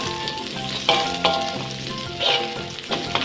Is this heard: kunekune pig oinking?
no